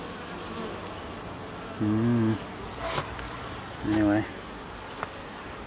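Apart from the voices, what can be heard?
yellow jacket wasp buzzing near beehive feeder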